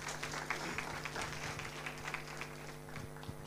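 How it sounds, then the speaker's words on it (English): Applause from a science and technology conference audience, a steady wash of many hands clapping at moderate volume, with no talking over it. "Let's give her a round of applause."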